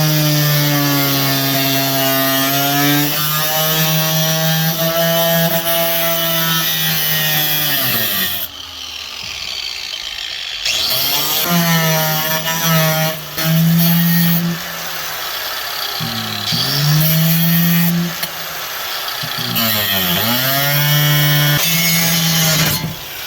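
A power tool cuts through rusty floor metal on a Ford Fairmont, a loud, close whine that sags in pitch under load, stops briefly several times and spins back up, with no voices.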